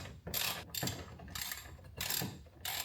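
A ratchet wrench clicks as it backs out a 10mm bolt on the fender of a 2021+ Lexus IS350, in four close, loud bursts of rapid ratcheting with short pauses between them.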